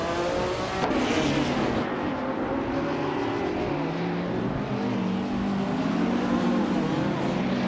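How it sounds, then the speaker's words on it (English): A pack of racing cars roars at the start of a race at Misano in a video game, led by a 1958 Maserati 250F, with loud overlapping engine notes rising and shifting in pitch as the field accelerates. "the race is underway at Misano, and leading the pack is Noga 77 in a stunning 1958 Maserati 250F"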